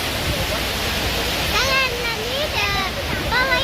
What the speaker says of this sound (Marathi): पाणी आवाज खूप येईल पाण्याचा